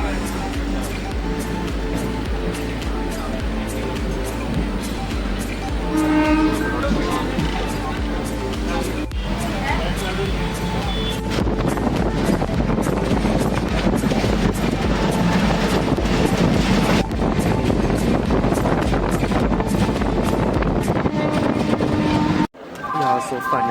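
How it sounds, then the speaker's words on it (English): Train moving slowly on a journey from Chandigarh University toward Ludhiana Junction in India: continuous rumble and rattle with wind noise heard from aboard, ending in a brief break and thump. "Train is moving slowly as you can see."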